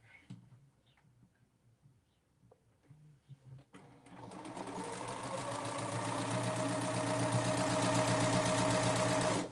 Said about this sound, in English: we're going to sew on the other side